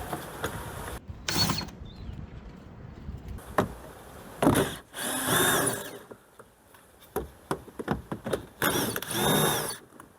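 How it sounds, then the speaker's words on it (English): Torx T20 screws come out of a Mercedes Sprinter door panel with a magnet tool: scattered clicks, ratcheting turns and a few bursts of rattling handling, close and moderately loud with quiet gaps between. "I like to just remove the screws"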